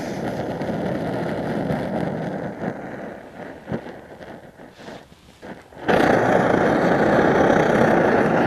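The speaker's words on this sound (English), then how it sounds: "Really crank the stove up where it makes quite a bit of noise." A liquid-fuel camping stove turned up high gives a steady, loud roar that eases off briefly, then surges back louder and holds steady, close by, with no voices.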